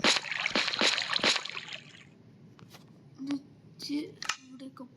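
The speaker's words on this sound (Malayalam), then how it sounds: "നമുക്ക് ഇവിടെ വെള്ളം നിറച്ച് കൊടുക്കാം." Water being placed in the Craft World block-building game, heard as short sloshing and splashing bursts that follow a few sharp clicks, with no talking.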